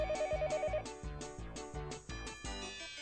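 Telephone ringing in a house in the anime Higurashi: When They Cry, a repeating electronic ring in short regular bursts, fairly loud and close, with music underneath and no talk.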